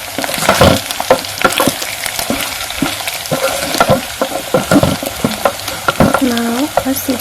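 Onions sizzling and frying in a pan with intermittent stirring scrapes, a steady close crackle punctuated by utensil knocks against the pan.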